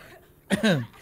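A single short cough, close and fairly loud, a quick harsh burst in a quiet moment.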